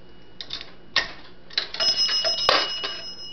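Small bells ring inside a 1960 Automatic Electric three-slot pay phone as a dime drops, bright metallic dings with clinking coin sounds around them, close and fairly quiet, no voices.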